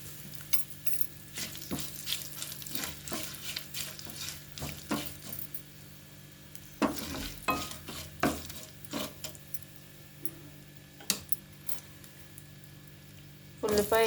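Curry leaves and onion frying in oil for bendakaya fry: a steady sizzle is heard close up, with repeated spatula scrapes and clanks against the pan and a few louder knocks toward the end.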